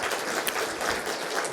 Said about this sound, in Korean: 격려의 박수를 한번 해주시기 바랍니다.